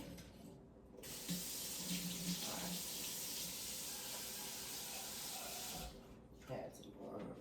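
Chicken broth poured into a bowl of homemade cornbread dressing, a steady rushing splash that starts abruptly, holds for several seconds and then stops, with faint kitchen clatter afterward.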